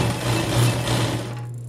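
A sewing machine stitches over a thick fold in a denim jeans seam, giving a steady, close, loud mechanical hum that runs continuously before stopping near the end.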